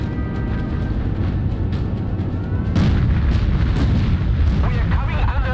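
Naval guns of a warship firing on the USS Northampton in Battlestations Pacific, a continuous roar of heavy gunfire with booming blasts and explosions, loud and close, with a burst of louder impacts midway and voices in the mix.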